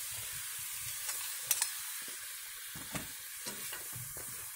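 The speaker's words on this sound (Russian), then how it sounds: "Мясо с картошкой жарится." Meat and potatoes fry in a cauldron over a campfire, a steady sizzling hiss with occasional scrapes and taps of stirring, close and continuous without talk.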